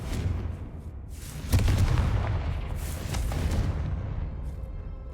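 Bombarda and Confringo blasting spells go off in the Hogwarts Legacy video game: a heavy boom hits about a third of the way in, then a rumbling explosive roar that gradually fades.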